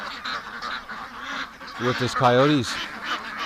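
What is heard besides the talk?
ducks quacking in the barn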